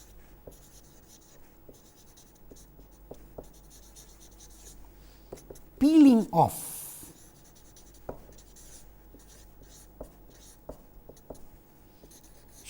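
Chalk or marker scratches across a board in a lecture hall, with a few brief strokes and taps scattered around a short burst of louder talk.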